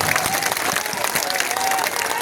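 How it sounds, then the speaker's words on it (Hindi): A rally crowd applauds in a dense, steady wash of clapping that fills the whole moment, loud and close, with a voice faintly mixed in. "अब बजाओ ताली, अब बजाओ ताली।"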